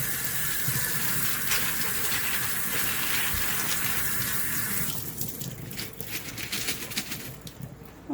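Water runs from a tap over a rough green tumbled stone as rock dust is rinsed off, a loud continuous close gush that thins and turns splashier toward the end.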